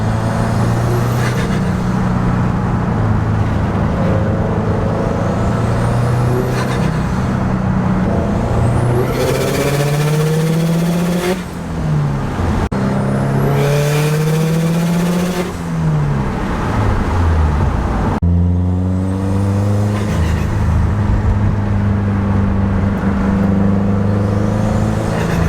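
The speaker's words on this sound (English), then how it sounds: "blow-off valve sounds amazing. External wastegate sounds awesome." A full-bolt-on 2017 Subaru WRX STI with an external wastegate and blow-off valve drives past, its engine loud and continuous with repeated rising and falling revs and sharp whooshing releases between gear changes.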